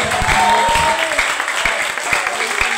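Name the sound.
congregation applause for the Lord in church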